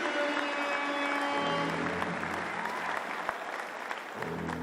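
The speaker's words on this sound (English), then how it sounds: "they deserve a round of applause too" Crowd applause at a Southland Sharks versus Canterbury Rams basketball game, a steady sustained clapping wash with tonal hum and background sounds mixed beneath it.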